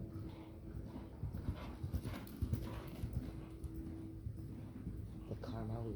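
Horse hooves beating in a steady cantering rhythm on long lines during a training session, fairly faint and close, with people talking over the footfalls.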